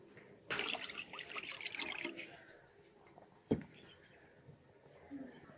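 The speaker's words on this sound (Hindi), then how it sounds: "एक पैन में हम ये 1 बाउल इमली का पेस्ट डाल देंगे, 1 गिलास पानी डाल देंगे" A glass of water pours into a pan holding tamarind paste for a tangy chutney, a splashy gush of about two seconds, followed by a single sharp clank and quiet kitchen sounds.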